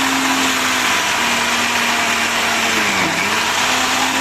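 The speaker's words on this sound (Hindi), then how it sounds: "बचा हुआ हिस्सा भी मैं फटाफट से पीस करके रेडी कर लेती हूँ" An electric mixer grinder runs continuously, whirring loud and close while it grinds mustard greens for sarson saag, its motor pitch dipping briefly near the end as the load shifts.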